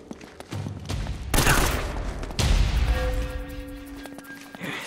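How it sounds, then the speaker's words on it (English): Gunfire in Uncharted, with two loud bursts of rapid shots and echoing impacts followed by ringing tones and a fading rumble. "They're shooting at you too"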